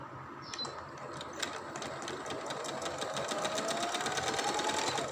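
A sewing machine runs steadily, stitching a seam on a shalwar-style trouser, its rapid even whirring and clicking continuous and close throughout.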